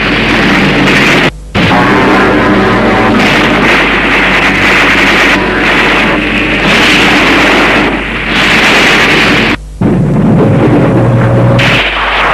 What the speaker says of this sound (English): the mercenaries came under endless artillery and aerial bombardment